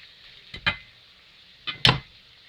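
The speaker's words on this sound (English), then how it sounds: "So you want to mix your fish very thoroughly" Fish being broken up and mixed by hand for Ghanaian fried fish pies: two close pairs of short scraping, squelching bursts against a quiet background, with no talking.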